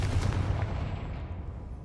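The Confringo blasting spell firing in the game Hogwarts Legacy, a single heavy booming blast that rumbles and fades out over nearly two seconds, with no talking.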